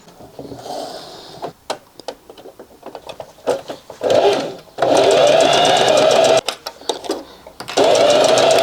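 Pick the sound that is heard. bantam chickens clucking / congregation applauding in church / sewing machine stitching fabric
sewing machine stitching fabric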